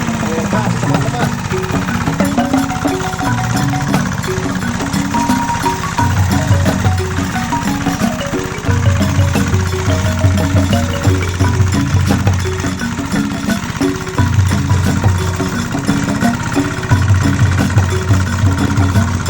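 A new tractor engine runs steadily at close range, a low rhythmic chugging that swells into louder surges at intervals, while people talk nearby.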